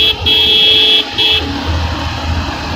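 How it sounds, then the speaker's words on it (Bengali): A car horn on a Dhaka city road at night blares in two long honks, close and loud, followed by the steady rumble of passing traffic. "আমার হর্ন কি সাউন্ড কমে গেল না?"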